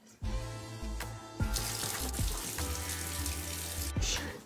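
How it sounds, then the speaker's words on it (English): Water runs from a shower at night, a steady close hiss of flowing spray that starts abruptly and carries on with small clatters and shifts in the stream. "I'm about to take a shower."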